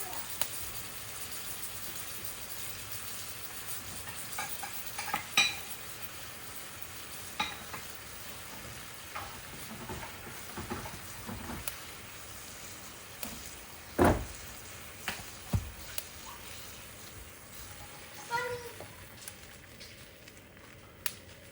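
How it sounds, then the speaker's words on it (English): Bread toasting in butter in a pan for Mexican molletes, a low steady sizzle with faint crackle and a few sharp clicks and knocks from utensils or the pan, fairly quiet throughout. "Just gonna toast it put it in the pan. A little bit of butter, and just let it toast."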